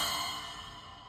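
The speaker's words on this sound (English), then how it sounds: "So splash cymbal's got a nice like little tiny sound" A splash cymbal on a drum kit rings out alone with a bright shimmering wash that fades slowly over about a second.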